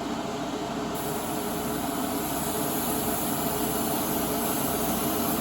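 An airbrush or spray gun lays a medium wet coat of paint onto a stripped plastic model kit part. It makes a steady, even hiss with no breaks, close up and constant throughout.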